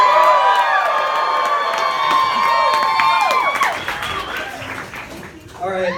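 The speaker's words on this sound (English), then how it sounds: "on the count of 3, to give a nice loud cheer" Live science comedy show audience giving a loud, sustained cheer with whoops and shouts, a dense crowd roar filling the room for several seconds before tapering slightly.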